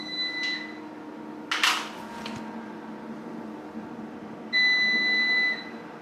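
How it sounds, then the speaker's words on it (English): Short electronic beeps sound against a quiet hum, first a brief tone, then a clunk, then a longer steady beep, like a battery backup alarm. "that UPS will keep beeping"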